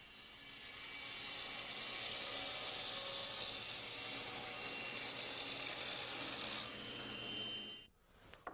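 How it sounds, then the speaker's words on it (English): A hand saw cuts a wooden miter for a staircase, a steady rasping stroke sound that is faint and continuous, then stops abruptly near the end. "Now I can mark the length and cut this miter."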